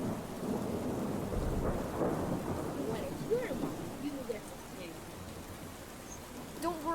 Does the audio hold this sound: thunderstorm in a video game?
yes